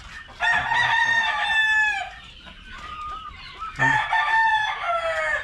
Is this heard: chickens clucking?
yes